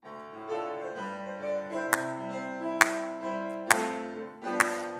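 During a Korean church worship service, a few sharp, evenly spaced claps ring out over sustained hymn accompaniment, roughly one clap per beat, standing out above the music.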